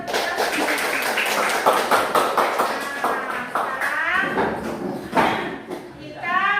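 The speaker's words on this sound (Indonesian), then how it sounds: "Oke, tepuk tangan." Eighth-grade students in a science classroom break into scattered applause. Quick overlapping hand claps continue through the clip, mixed with the voices of students talking nearby.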